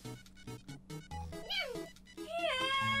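A cat in the video game Mama ni Game Kakusareta 2 gives two clear rising-and-falling meows over short, stepped electronic game tones.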